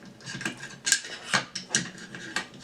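An AR15 bolt carrier sliding into the rifle with a charging handle in place, a series of close metallic clicks and ratcheting scrapes, about six sharp ticks over a few seconds.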